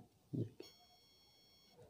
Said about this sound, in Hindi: ये अभी मेरे को मैसेज नोटिफिकेशन आया